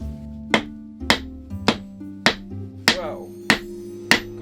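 Seven sharp hammer blows strike a swivel-top wooden birdhouse at a steady, slightly uneven pace, each crack close and loud over a low engine-like hum, with a brief spoken exclamation among them.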